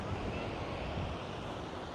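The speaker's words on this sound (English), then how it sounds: "The sound of the ocean." Ocean surf and a light sea breeze by the shore: a steady, soft, broadband wash of waves with gentle wind noise, constant and fairly quiet throughout, with no voices.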